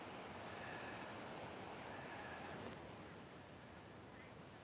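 Ocean waves along the San Diego shore make a faint, steady wash of surf, blended with light wind noise throughout.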